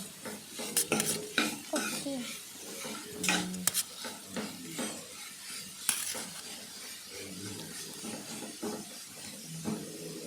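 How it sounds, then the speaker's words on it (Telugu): Grated papaya fries in ghee as a spoon stirs it steadily, giving a continuous soft sizzle with frequent close scrapes and occasional sharper clinks against the pan. "అదే గీలో ఆ తురుము తీసుకొని వేయించుకోవాలి బాగా"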